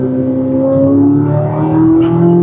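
A 2024 Chevrolet Corvette C8 Z06 pulls hard under acceleration, a loud, smooth engine note rising steadily in pitch from inside the cabin.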